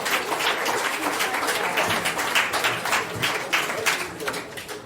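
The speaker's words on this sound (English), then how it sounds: "One more round of applause for EDJ" A live audience at a poetry and spoken-word night applauds a poet, with dense, steady clapping that holds at an even level for several seconds.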